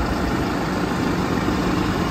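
A New Holland T4.95 tractor engine idles with a steady, even drone, close and constant, with no voices.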